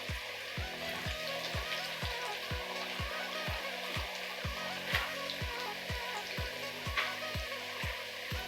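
Boiled cassava deep fries in hot oil with a soft, continuous sizzle and bubbling, joined by a regular series of light taps, faint and close, with no talking.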